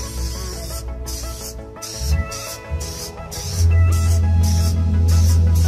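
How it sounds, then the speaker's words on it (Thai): Asphalt remover aerosol sprayed onto car paint: a steady hiss in several short bursts with brief gaps, then one longer continuous spray, close and fairly loud, with no talking. "แนะนำนะครับเป็นพวกสเปรย์ล้างยางมะตอยนะครับเราฉีดไปเลย"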